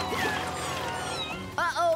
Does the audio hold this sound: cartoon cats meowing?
yes